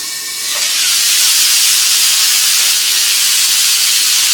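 Chicken momos sizzle in melted butter inside a covered pan, a steady loud hiss that swells in after the first half second and holds evenly to the end with no talk.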